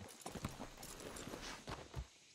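Horse hooves clip-clop in Red Dead Redemption 2, a quiet, uneven run of soft hoofbeats over a few seconds with no voices over them.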